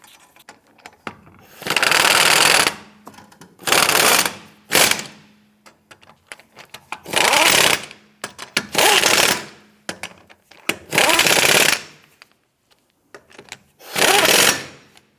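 A power tool snugs down lug nuts on a Nissan Rogue wheel in six loud buzzing, ratcheting bursts of about a second each, separated by short quiet gaps.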